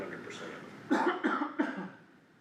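Several short, harsh coughs come in a quick burst, close and fairly loud, after a moment of quieter throat noise.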